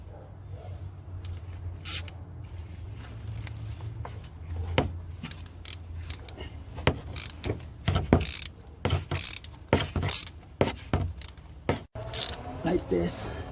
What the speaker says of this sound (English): Now we're gonna use our wrench.